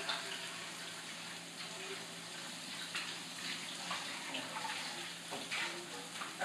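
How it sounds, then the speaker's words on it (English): Kitchen tap running steadily while hands are washed during meatloaf preparation, a soft continuous water stream with light splashing, fairly quiet. "let me wash my hands real quick"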